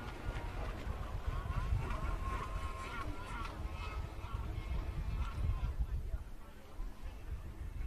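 Personal watercraft race in a split course at a pro watercross event, engines droning and whining at a distance under continuous commentator talk.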